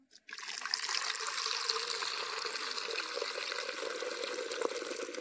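Water trickles steadily into a pigeon's drinking bowl after a brief knock at the start, a close, continuous pour with a light splashing texture and no talking.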